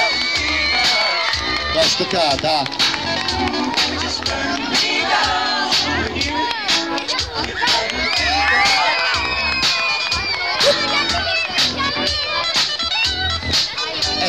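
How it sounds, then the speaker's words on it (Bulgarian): Audience at a school patron-day celebration with a ballet performance cheers and applauds loudly, children shouting and whooping in a continuous excited crowd roar, with a brief spoken reply over it. "моля ви, ръкопляскайте!"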